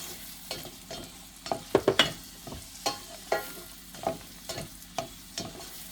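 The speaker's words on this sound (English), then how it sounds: "we're gonna put tomatoes, onions first, actually onions first." Onions fry in a pan as they are stirred, with a low sizzle beneath repeated scraping and clattering strokes at irregular intervals, close up and fairly quiet.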